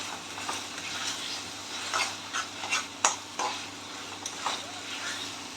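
A spoon stirs chicken keema in a pan over a soft, steady sizzle, with irregular scrapes and light knocks against the metal, fairly quiet and close.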